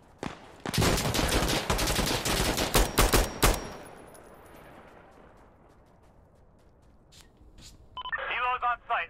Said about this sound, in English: We got minigun support for this target.